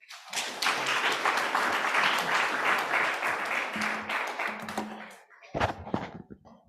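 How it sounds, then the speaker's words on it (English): An audience at a climate justice workshop in Nairobi applauds a guest speaker, with dense, lively clapping sustained for about five seconds before it breaks off, followed by a few scattered thumps and a brief voice. "Please clap for Dr. Wangari."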